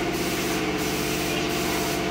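A spray gun hisses continuously and loudly as a motorcycle is spray painted, with a steady compressor-like drone underneath and no break.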